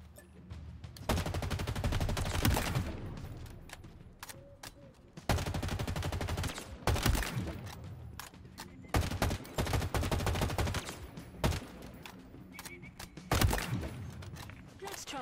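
Weapons fire during Halo Infinite combat training, with repeated bursts of automatic gunfire separated by short pauses, loud and close, and some quieter moments between volleys.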